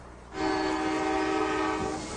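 A freight train passes through a small town in Bedford, Ohio, sounding a loud, sustained horn blast for nearly two seconds over a steady rail rumble.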